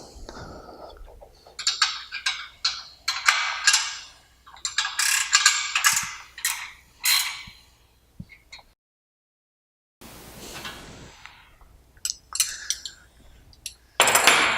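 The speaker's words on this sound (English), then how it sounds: "So just put about 10 to 15 foot-pounds of torque on each bolt." Wrench ratchets tightening bolts on a CrossFire gantry rail assembly, each bolt brought to about 10 to 15 foot-pounds of torque; bursts of close metallic ratcheting clicks with short pauses and a brief silent gap.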